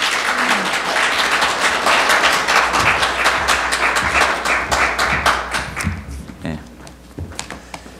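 A church congregation at a Wednesday evening service applauds to welcome a pastor, loud dense clapping that thins into a few scattered claps near the end.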